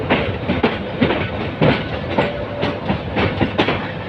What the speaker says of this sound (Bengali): ট্রেনটি কমলাপুর রেল স্টেশন থেকে বেরিয়ে তার আউটার